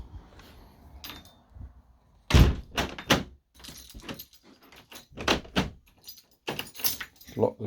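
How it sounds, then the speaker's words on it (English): Keys jangle and knock against a house door as it is locked, giving bursts of metallic clinks and a loud thunk close by, with quiet gaps between them. "Lock the door"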